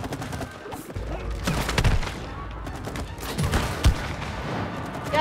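Rapid bursts of gunfire from the co-op video game It Takes Two, loud and dense, with heavy thumps and crashes mixed into the barrage.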